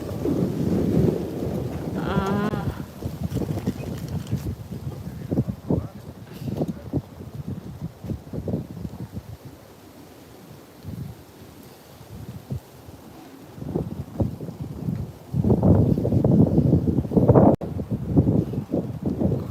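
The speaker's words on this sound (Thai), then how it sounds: "ดูลมสิ จะลมอะไรนักหนา" Strong outdoor wind among autumn foliage roars against the microphone in gusty waves, loudest at the start and near the end, while people talk over it throughout.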